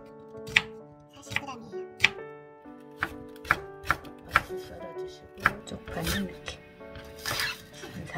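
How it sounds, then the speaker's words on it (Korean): A knife chops radish on a cutting board for a Korean braised hairtail fish dish, producing a series of sharp, evenly spaced close taps, with someone talking between and over the cuts. "얇게 썰어도 상관은 없어요"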